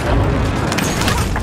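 An airstrike explosion in Call of Duty Warzone, a dense loud rumbling roar that fills the whole moment without a clear start or end, with crackling debris textures over it, close and powerful.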